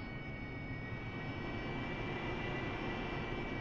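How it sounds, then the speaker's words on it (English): Aircraft engine droning steadily overhead in the DCS World flight simulator, a continuous broad roar with a faint high whine, holding constant and alone throughout. "There's an aircraft up there coming round"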